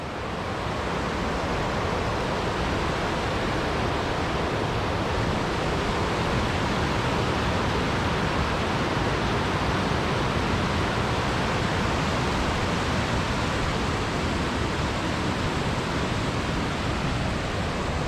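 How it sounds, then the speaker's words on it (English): Fast whitewater rushes steeply down the slope of Backwater Dam in Scotland, a loud, steady, close roar of churning water that continues unbroken. "the water's moving so fast by the time it gets to this point, it's crazy. It's just like whitewater rapids here."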